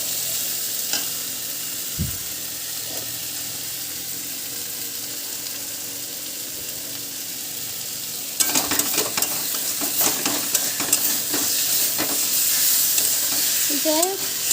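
Ash gourd greens sauté in a pan with a soft steady sizzle that suddenly grows louder and busier partway through, joined by scraping and clinking of a spatula stirring against the pan.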